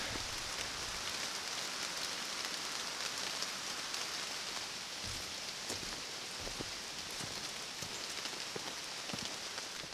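Heavy rain pouring down over a wide lake during a solo hike, a dense, steady hiss of drops striking water and ground, loud and unbroken with occasional closer spatters.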